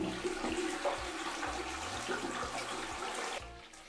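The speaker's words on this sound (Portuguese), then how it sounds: "Vou dar descarga." A toilet flushed right after being cleaned: a loud, continuous rush of water swirling in the bowl that carries on steadily, then drops off near the end, heard close up with no talk.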